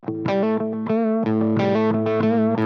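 A distorted electric guitar plays a short repeating riff, loud and close, notes ringing into each other with a thick effected tone.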